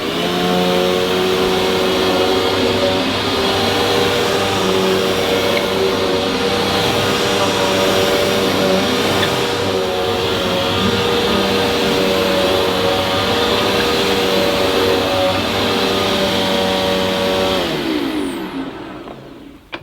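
A Hoover Breeze Evo vacuum cleaner runs steadily with a loud, even motor whine and airflow hum for nearly twenty seconds, then spins down and cuts off at the very end.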